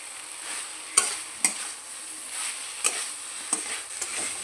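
A spatula presses potatoes in a pan of pumpkin greens cooking over a medium flame, giving several distinct scraping taps over a soft steady sizzle, close by and without speech.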